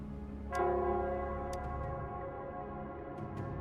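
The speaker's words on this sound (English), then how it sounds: "It's the Nell Squares bell." Nell Squares bell in Wuthering Waves tolls once with a sustained, ringing resonance that slowly decays, while faint tinkling chimes sound in the quieter moments that follow.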